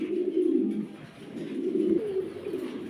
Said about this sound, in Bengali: একদম ফ্লোর টাচ কবুতর